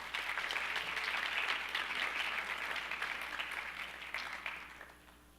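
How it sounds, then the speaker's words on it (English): Audience applause at a National Honor Society ceremony, a steady wash of many hands clapping from a crowd, full and even before thinning and fading out toward the end. "give your parents a round of applause because they are your support system"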